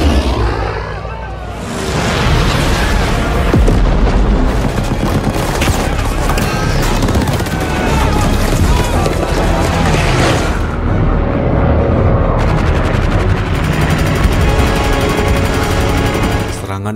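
A film's air strike on North Korean defensive positions in the Korean War fills the scene with heavy, continuous explosions and rattling gunfire, loud and dense for the whole stretch.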